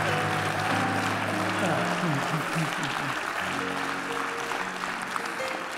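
Church congregation clapping for God during a worship service, steady applause under sustained organ or keyboard tones and some talk, loud throughout.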